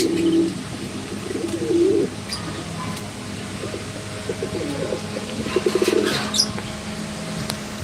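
Fancy pigeons at a market coo in soft repeated phrases, close by, with faint chirps and background bustle around them.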